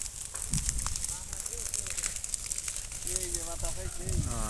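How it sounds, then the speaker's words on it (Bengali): A steady hiss and faint crackle of weeds burning in a crop field, with a person talking over it throughout. "আগুন ধরে দেওয়া হচ্ছে আর এই যে এগুলো জ্বলতেছে"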